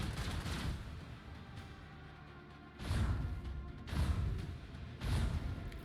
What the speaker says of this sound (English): Fire the port side macro cannon.